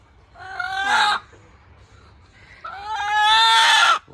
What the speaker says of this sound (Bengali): বন্ধুরা এই মুরগিটা হচ্ছে কড়কনাথ মুরগি বলে এই মুরগিগুলোকে